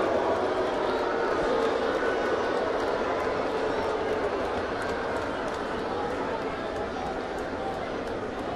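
Baseball crowd at a Texas vs. New York Yankees game in August 2012 jeers a struggling pitcher, a steady, dense roar filling the ballpark throughout, with voices likely mixed in.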